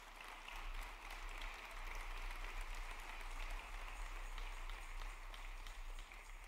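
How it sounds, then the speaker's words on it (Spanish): Congregation applauding in a church during a sermon, a steady dense wash of clapping from many hands that holds at an even level for the whole stretch without a break. "Le dan un aplauso a Él"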